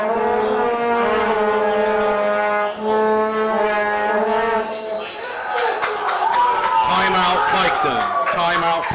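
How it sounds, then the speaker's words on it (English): Loud, sustained air horn blasts blare from the crowd at a high school football game, overlapping tones holding steady before more horns and cheering join in, with an announcer talking over them. "Got a lot of air horns out here in front of us tonight."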